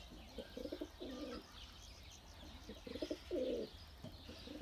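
Soft, rhythmic pigeon coos repeat in short phrases, fairly close, with faint chirps and a quiet outdoor background.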